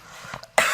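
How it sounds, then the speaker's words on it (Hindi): A sudden, sharp cough at close range, one short burst with a brief lead-in, from a person teaching a class on Gram staining of bacteria. "खांसी हो रहा है आज अचानक"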